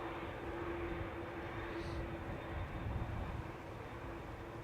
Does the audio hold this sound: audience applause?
no